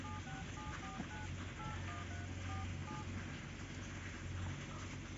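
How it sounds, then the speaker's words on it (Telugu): A phone number is dialed on a keypad: a quick run of short, evenly spaced tone beeps plays over a steady background hiss, then the tones stop and only the noise continues. "మనమైతే సెకండ్ నెంబర్కి కాల్ చేస్తున్నాం"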